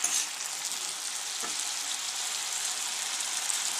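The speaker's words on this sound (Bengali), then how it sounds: "আলু ভাজা চলছে।" Potatoes frying in a pan, a steady close-up hiss of hot oil sizzling continuously with a single soft knock partway through.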